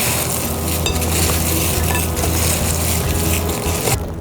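Fried eggplant for wambatu moju being mixed and tossed in a bowl or pan, a steady close scraping and stirring clatter with faint sizzle, continuous with no voices.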